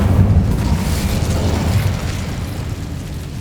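A burst of the Incendio fire spell in Hogwarts Legacy, a loud continuous roaring whoosh of flame with heavy low rumble that fades slightly over a few seconds, no voices.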